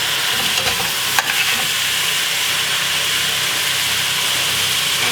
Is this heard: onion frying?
yes